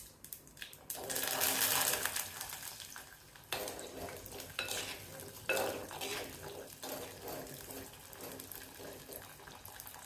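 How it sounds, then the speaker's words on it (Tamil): Shallots, garlic, green chillies and curry leaves sautéing in oil tempered with fennel and fenugreek for a village-style fish curry. A steady sizzle runs under the clatter and scrape of a spoon stirring the pan. "வெந்தயம் தாளிச்சிட்டு சின்ன வெங்காயம், பூண்டு, பச்சை மிளகாய், கருவேப்பிலை எல்லாம் சேர்த்து நல்லா வதக்கணும்."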